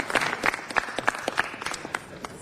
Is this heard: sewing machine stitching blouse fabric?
no